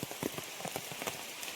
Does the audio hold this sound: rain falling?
yes